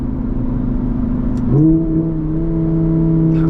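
A Lamborghini Huracan EVO Spyder engine drones loudly in the cockpit, then revs up sharply and settles into a higher steady growl as it accelerates.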